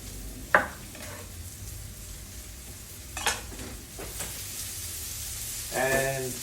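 Capsicum pieces sizzling in a pan for Spanish paella: a constant soft frying hiss with a few clacks and scrapes of stirring utensils, and a voice speaking briefly near the end.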